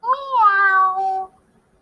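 One loud, close cat meow that starts with a quick chirp, then holds a long, steady, slightly falling tone before stopping abruptly in silence.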